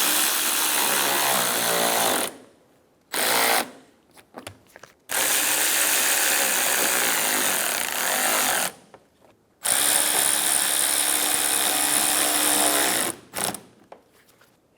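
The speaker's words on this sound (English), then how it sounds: "Install the 3 screws on the side of the fender liner." Repeated bursts of a power driver running screws into the plastic front fender liner of a 2012-2020 Chevrolet Sonic, several whirring runs separated by short pauses, close and loud with no talk.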